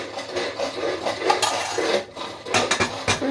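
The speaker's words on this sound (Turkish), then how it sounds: "Şimdi çıkan şu bulaşıkları da yıkayım bu fırında kızarırken." Dishes being washed by hand in a home kitchen: irregular clinks and clatters of pots and cutlery with rubbing and scraping, close and moderately loud, growing busier toward the end.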